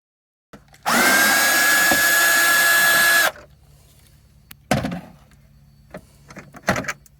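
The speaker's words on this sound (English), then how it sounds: "So first thing I've got to do is remove these bolts with a star bit." Power drill fitted with a star bit, backing out bolts from a Renault Trafic van roof, whirring loud and steady for about two seconds, followed by quieter clunks and handling noises.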